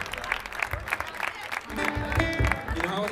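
An audience at a folk concert claps along in a steady rhythm to a chacarera, with guitar notes joining partway through and voices murmuring in the crowd.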